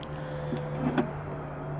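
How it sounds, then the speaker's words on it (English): An electric tailgate on a Mercedes E-Class E280 Avantgarde runs with a steady low motor hum, a couple of soft mechanical clicks partway through and a firm clunk at the very end. "comes with the electric tailgate"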